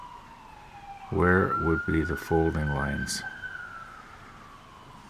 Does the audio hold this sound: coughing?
no